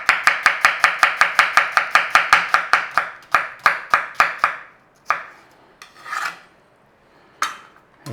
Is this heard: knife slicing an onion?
yes